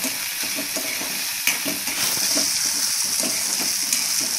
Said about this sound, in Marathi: कांदा आपला चांगला लालसर झाला पाहिजे, भाजून घ्यायचा 2-3 मिनिट चांगला।